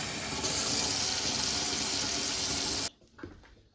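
Tap water pours steadily into a measuring cup, a loud, continuous hissing stream that stops abruptly near the end, followed by faint handling noises.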